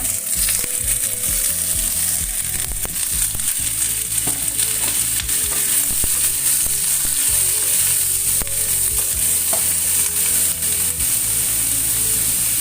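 Pre-boiled chicken pieces sizzle and fry steadily in a pan while being stirred, with scraping utensil clicks over continuous close hissing, for a clear chicken soup.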